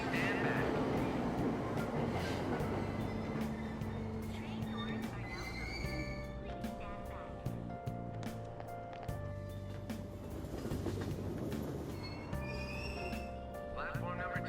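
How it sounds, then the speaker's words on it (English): A subway train departs a station platform in the video game Persona 5 Royal, a steady rumble of rail noise with tonal chimes and mechanical whirs under a station announcement voice. "Train doors are now closing."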